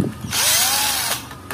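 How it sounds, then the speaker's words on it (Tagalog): A power screwdriver or drill whirs steadily for about a second while backing screws out of the amplifier board of a Bluetooth speaker with no power, close and fairly loud, with a short tool sound at the start and end. "Bali may dalawang screw dito sa gilid. Ito. Baklasin lang natin yan."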